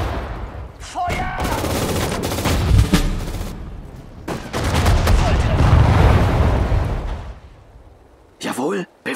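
Battle gunfire in the World War II strategy game Sudden Strike 4, with repeated bursts of rifle and machine-gun fire and heavy booms, loud and dense, mixed with German voice commands from units.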